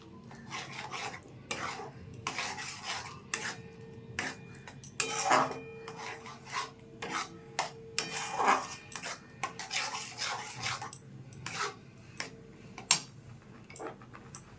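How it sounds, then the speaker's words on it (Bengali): Chhana being mixed by hand or spoon in a bowl for malai sandesh, giving repeated soft rasping, scraping strokes with occasional light clinks of utensil on dish, close and steady without talk. "ভালোভাবে মিশিয়ে নেব।"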